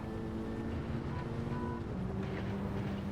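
Car engine in a racing video game, a steady low droning hum with faint tonal whine, even and moderately quiet throughout, no voices.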